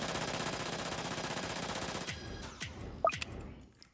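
A minigunner tower in a tower defense video game fires a dense, continuous rattle of rapid shots, then breaks into scattered bursts and sharp game effects toward the end.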